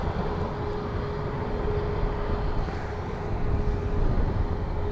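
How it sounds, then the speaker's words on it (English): A Transavia Airbus A320 on approach to Dublin Airport, a steady broad roar of jet engines held at a constant level throughout, with a faint tonal whine running underneath and a slight swell toward the end. "Transavia 320 on approach, and it's the new revised."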